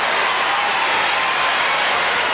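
Loud, dense applause and cheering from an arena crowd at a 1995 Australian NBL basketball All-Star game, a sustained wash of clapping close and filling the space.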